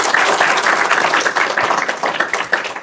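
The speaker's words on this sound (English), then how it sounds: "Round of applause." Audience at a web security conference talk breaking into steady applause, dense clapping from many hands throughout the short burst with no voices on top.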